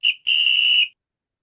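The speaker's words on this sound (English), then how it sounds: "So hopefully you guys did hear the whistle sound." A whistle played over a Zoom call gives a short chirp, then a steady shrill tone lasting just over half a second before cutting to silence.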